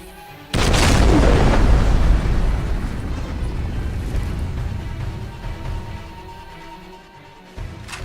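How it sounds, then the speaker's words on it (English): A sudden loud boom from an explosion that blasts a hole through a wall in an Army of Two video game cutscene, followed by a long, rumbling decay with no talk. "the explosion tore a hole through the wall"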